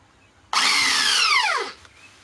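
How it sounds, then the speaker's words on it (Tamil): A power drill drives screws to fix the door of a 2.1 home theatre speaker box, one loud whirring burst lasting about a second that winds down in pitch as the screw seats. "ஃபைனலா இந்த பாக்ஸோட டோரை நம்ம வந்து ஃபிக்ஸ் பண்ணிக்கலாம். ஃபிக்ஸ் பண்றதுக்கு நம்ம ஸ்க்ரூ யூஸ் பண்ணிக்கலாம்."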